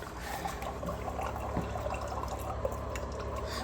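Hot water runs from a tap in a steady, continuous stream with a little dripping and splashing. The flow holds even and close for the whole stretch, with no voices.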